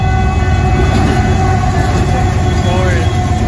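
A northbound Union Pacific freight train of hopper cars, numbered 2664 and 595, passes a crossing at Dittmar Road in Austin, with a loud, steady rumble and rail roar close by throughout.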